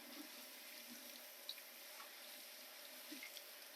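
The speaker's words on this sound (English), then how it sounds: "I'm washing until the water is clear." Two cups of round risotto-type rice being washed in water at a sink, a quiet continuous wet swishing with faint splashes and drips, no talking.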